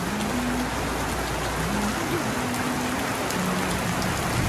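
Heavy rain pouring at an open-air market, a loud, dense and unbroken hiss of falling water close by, with a faint tonal hum drifting underneath and no speech.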